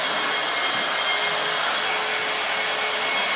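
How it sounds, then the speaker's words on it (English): Steady, even whir of a new drywall sanding machine running, an unbroken broadband hiss with a few faint high whines, fairly loud and close with no voices. "This is the new drywall sanding machine."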